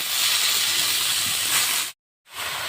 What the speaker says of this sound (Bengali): শাক দিয়ে দিচ্ছি, ঘি দিচ্ছি